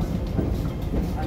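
Low, steady rumble of a Hong Kong MTR train pulling away from a station platform, continuous and fairly loud throughout.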